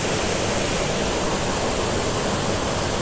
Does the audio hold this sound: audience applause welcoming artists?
no